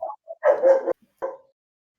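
A dog gives a few short, close barks and yips in uneven bursts, with a brief gap between them.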